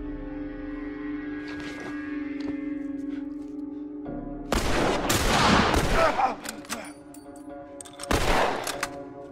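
Hunting rifle gunfire in The Last of Us game: after a tense musical drone, a loud shot bursts out around four and a half seconds in, followed by another sharp blast near the end.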